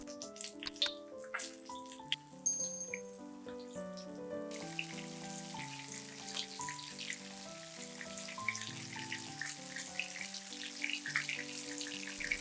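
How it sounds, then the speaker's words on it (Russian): Zucchini patties fry in hot vegetable oil in a pan over medium heat, giving a faint, steady sizzle and crackle beneath soft background music, with no talking. "Жарим котлеты на среднем огне по 3-4 минутки с каждой стороны."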